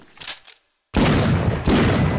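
Two loud, booming revolver shots from the video game Chemists: Contamination Zone (Химики Зона Заражения) ring out, each followed by a harsh noisy tail. A short burst of muffled sound comes before them.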